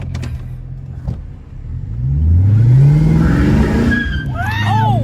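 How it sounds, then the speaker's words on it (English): A car with an open differential doing burnouts in a yard: engine revs climb in a rising whine, tires spin and screech with squealing chirps near the end, close and loud. "I'm over here doing burnouts in this man's yard with an open diff."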